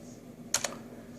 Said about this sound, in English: if I type any commands, you'll see it translating the data down below